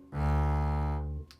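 Double bass sounding a single sustained, rich low note for about a second before stopping: a warm tone with no grace note, moderately quiet and close.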